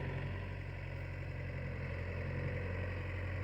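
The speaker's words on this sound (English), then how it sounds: "pushing some snow with his tractor here" A tractor pushing snow at an Alaska homestead during a heavy snowstorm, its engine giving a steady low rumbling drone, moderately close and unbroken, with no voices.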